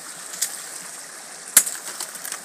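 Water runs over large rocks in a natural stream, a soft, continuous rushing with a few faint splashes and gurgles rising above the steady flow.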